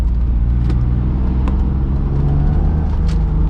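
A BMW E36 crawls in slow traffic behind a bus, its engine a loud, steady low hum with road rumble filling the whole stretch, and no one speaking.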